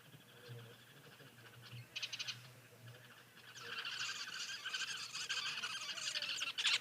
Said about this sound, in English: That little bird calling, I do believe, is a sociable weaver.